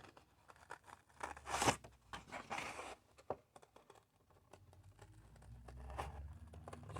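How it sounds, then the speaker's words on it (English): Sharp scissors cut out paper pieces for wooden decoupage earrings, giving faint, close crisp snips and rustling in irregular bursts, with no talk. "Just going to cut them out."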